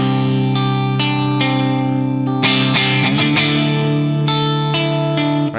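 An electric guitar plays a barred power chord through heavy distortion with chorus and reverb, struck repeatedly in a loose rhythm and ringing out in between, with no voices.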